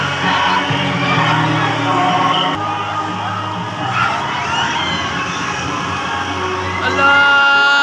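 Amusement park riders at a Marikina riverbank park screaming and shouting together on a ride, a dense, continuous wall of excited voices with siren-like wails and occasional higher shrieks rising toward the end.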